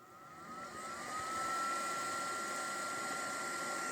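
A small computer cooler fan serves as the blower for a homemade waste-oil burner, whining steadily as it spins up over the first second and then holding a constant airy hum with a thin rising tone.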